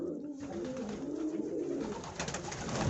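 Pigeons coo softly and repeatedly nearby, their low, rolling calls layered over a breezy outdoor background.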